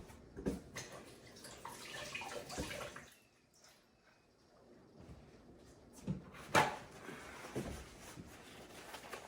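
A frozen cucumber is rinsed under running tap water in a kitchen. The faint splashing comes in uneven bursts with a quiet pause in the middle, alongside a few soft clunks.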